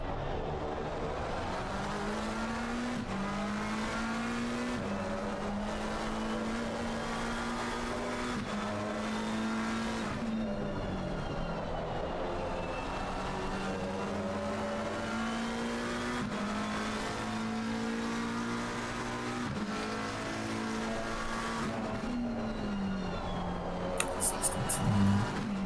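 GT race cars, Porsche and McLaren, lapping the Misano circuit in an endurance race, engines droning steadily at high revs with gear changes and passing surges, commentators talking over the racing throughout.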